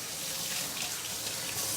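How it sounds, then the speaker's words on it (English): A latke fries in hot oil with a steady, soft broadband sizzle that stays even throughout, close and fairly quiet, with no talking. "listen to the soft sound of the latke going into the oil"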